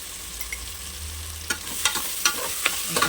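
Beetroot frying in a pan with salt, a low steady sizzle joined partway through by a few sharp spatula scrapes and clinks from stirring, fairly soft and without speech.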